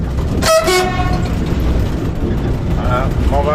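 Horn of the Train des Mouettes tourist train sounding at a level crossing: one loud, near blast with a strong harmonic stack, over the running train's steady rumble, with a fainter second toot near the end.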